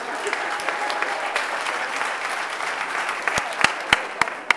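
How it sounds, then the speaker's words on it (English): Steady applause from a crowd, dense and sustained, with a few sharper claps standing out near the end. "A big round of applause for all of the volunteers."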